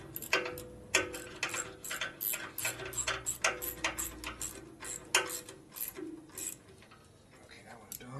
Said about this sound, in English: I guess I have to actually have to tighten that hose clamp